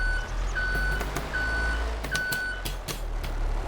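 A forklift in a farming video game sounds its steady reversing beeps, evenly spaced tones over a low engine rumble, with a few clunks and knocks mixed in.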